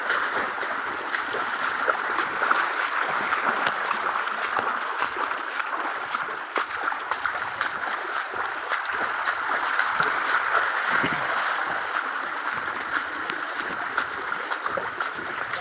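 Water spills over a brim-full dam at a village, a steady broadband rush that runs unbroken and fairly loud throughout, with no talk over it.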